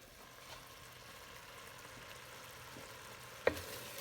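Parmesan risotto cooks in a pan with a soft, low simmering hiss, and a single sharp spoon clack against the pan comes near the end.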